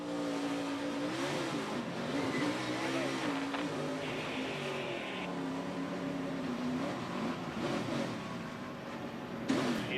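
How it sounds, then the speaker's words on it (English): A NASCAR Nationwide Series race car at Daytona in 2014 revs its engine hard in a sustained, steady roar while a voice talks over the radio throughout. "Hearing that engine rev up generally means the rear wheels are off the ground."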